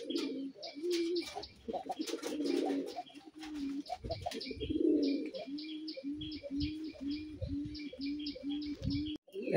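A male coloured Raj Golla pigeon coos in a close, steady run of repeated low rolling calls, with scattered chirps and brief wing flutters from other birds nearby.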